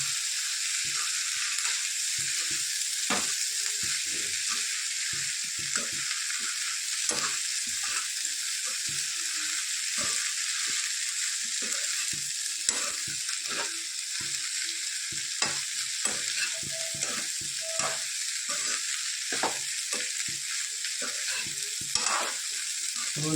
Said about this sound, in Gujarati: સરસ રીતે આપણે મિક્સ કરી લઈએ.